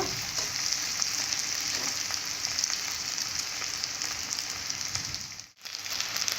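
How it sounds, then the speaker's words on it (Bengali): Egg pieces coated in turmeric frying in oil in a pan, a dense, even crackling sizzle close by that holds steady for several seconds, then briefly cuts out before resuming, with no voices. "দিয়ে এইভাবে ভেজে নেব প্রত্যেকের গায়ে হলুদ লেগে যায় আমি সেইভাবে ঘেঁটে দেব"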